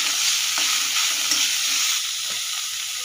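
Onion and boiled soybean chunks fry in a pan with a loud, even sizzle close by, broken by a couple of soft spatula scrapes as they are stirred, with no voices.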